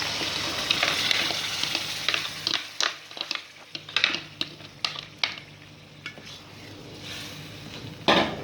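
Tomatoes with garlic and chili go into a pan of frying onions and spices, a loud sizzle at first easing into a softer fry under a run of clicking stirs and knocks against the pan, with no talking.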